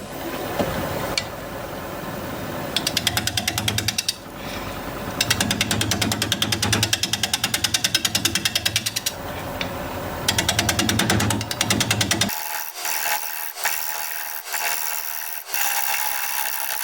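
Black walnut being turned on a wood lathe, the tool catching high spots and skipping low ones, giving a loud rapid chattering rattle in repeated bursts for about twelve seconds before stopping, followed by quieter scraping and knocks.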